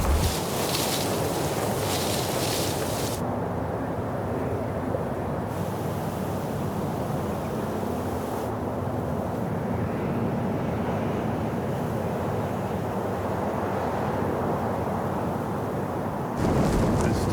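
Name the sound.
strong wind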